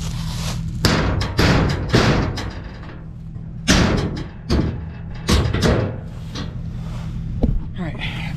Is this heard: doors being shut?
yes